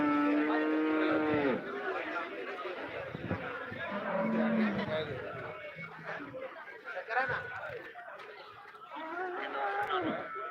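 Cows mooing at the Chintamani cattle market, several long lowing calls from nearby animals standing out over steady crowd chatter and voices.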